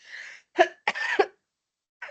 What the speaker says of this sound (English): I'm a little bit allergic in this weather, so please bear with me if I cough in between